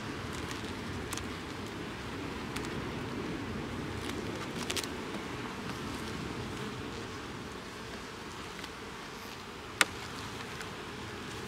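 Honey bees hum continuously at a hive on flowering goldenrod, a dense, steady close-up buzz of many insects with a few brief clicks and no voices.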